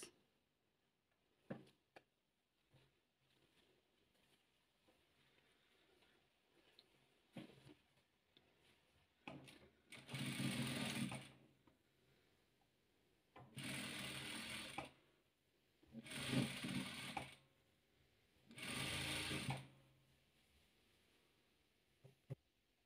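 Sewing machine stitching rows of a velvet patchwork quilt together, with several loud bursts of rapid mechanical whirring separated by pauses filled with faint clicks and handling noises.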